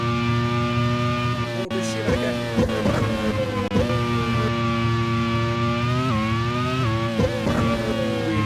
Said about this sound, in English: don't like talking over these onboards because the engine noise is fantastic